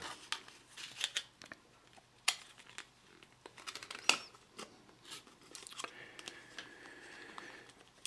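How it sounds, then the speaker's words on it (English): An Intel Core i7 processor is lifted out of its packaging, making close, soft crinkling and tearing rustles in scattered short bursts with quiet gaps between them. "So we're now going to take the processor out of the packaging."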